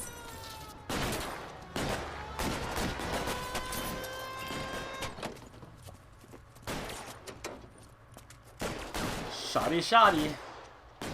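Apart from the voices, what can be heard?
gunfire in the video game L.A. Noire, bank robbery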